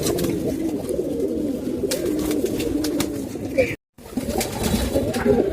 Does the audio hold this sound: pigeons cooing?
yes